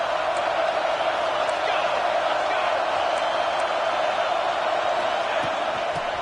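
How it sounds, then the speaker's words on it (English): A college football video game stadium crowd for Ohio State roars steadily throughout, a dense continuous wash of cheering with no distinct breaks. "This crowd knows when to bring it."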